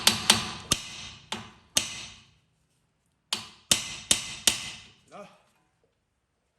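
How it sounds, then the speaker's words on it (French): Hammer tapping a screw head while restoring an Apolo Green youngtimer car, a series of sharp close metallic knocks in two bursts of about five blows each, with a brief spoken word. "je vais venir mettre un petit coup de marteau"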